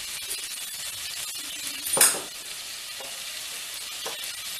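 Eggplant sautés with salt in a pan, giving a quiet, steady sizzle, one brief louder scrape or clink partway through, and a faint knock later on.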